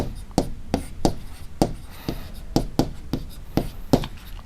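Chalk or marker taps and strokes on a board as numbers are written, about a dozen sharp, close clicks and scratches in an irregular rhythm, alone with no talk over them.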